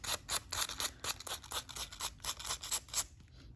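Scissors cut around an altered button with a quick run of about a dozen crisp snips in a steady rhythm, close and fairly quiet.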